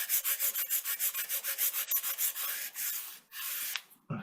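A perma-grit sanding block is rubbed over a model aircraft rudder in fast, rhythmic strokes, about a dozen close scratchy passes followed by a longer pull and a brief thump.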